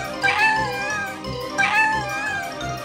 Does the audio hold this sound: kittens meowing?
yes